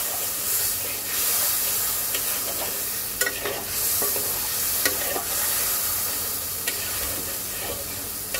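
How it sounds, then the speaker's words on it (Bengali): Spice paste with turmeric and coriander sautés in a pan for mustard hilsa, a continuous hissing sizzle broken by repeated scraping strokes of a spoon stirring the mixture. "চলো 2-1 মিনিট মশলাটাকে কষিয়ে নেই"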